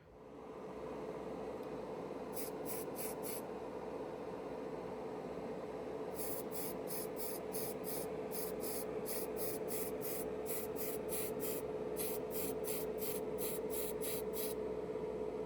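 Primer is sprayed onto a 1/32 Monogram Texaco tanker model kit in short quick bursts of hissing, grouped in rapid runs over a faint steady background hum.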